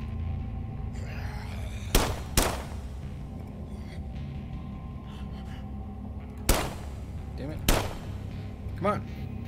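Gunshots shooting out lights in the System Shock Remake video game, four sharp, loud single shots spaced apart, two close together early and two later, over a low ambient hum with occasional quiet talk.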